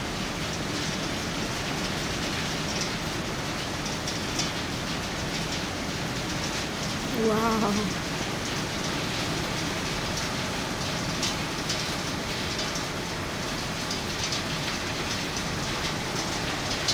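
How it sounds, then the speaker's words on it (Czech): Hail falls during a winter thunderstorm as a steady, dense patter of ice striking surfaces, a continuous close wash of impacts through the whole stretch with no talk. "Hřmí, blejská se. A padají kroupy."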